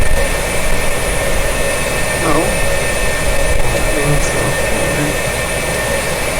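A simulated F-4J/S Phantom II jet engine runs in a flight simulator, giving a steady, loud broadband roar that persists throughout while a voice speaks briefly over it.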